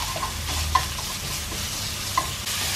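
Ground meat and fermented soybean paste stir-frying in a pan, a steady low sizzle with a couple of sharp scraping clicks from the spatula, close and alone with no talking.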